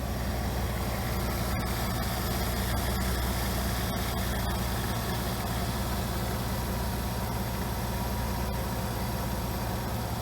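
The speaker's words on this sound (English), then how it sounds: "Here's that North Star running nice and smooth." A Cadillac Seville Northstar V8 engine idles smoothly and steadily, a continuous low rumble with no revving, close and constant throughout.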